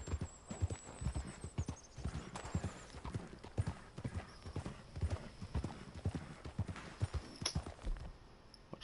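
Steady clip-clop of a horse's hooves on a trail in Red Dead Redemption 2, a close, continuous rhythmic trot with someone talking intermittently over it.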